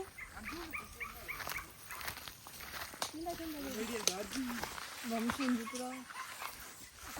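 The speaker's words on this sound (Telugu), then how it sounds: "కుక్కలు ఉరుతున్నాయి" Two dogs yelp and whine in short, high bursts nearby in a village mango orchard, mixed with people talking over them.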